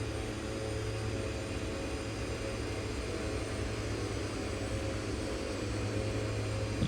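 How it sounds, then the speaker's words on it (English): A low approach flyby in the X-Plane 11 flight simulator, a steady droning aircraft engine hum with a continuous low rumble, even and unbroken throughout. "let's do a low approach here for the tourists"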